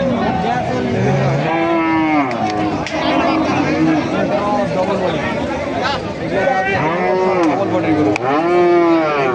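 Cattle bellow loudly and repeatedly at a busy livestock market, several drawn-out moos rising and falling over near, continuous talk and crowd chatter.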